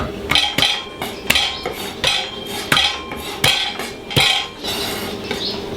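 Garlic being crushed on a table for duck rillettes, heard as a run of sharp, evenly spaced metallic knocks and clinks, close and fairly loud, with no talking.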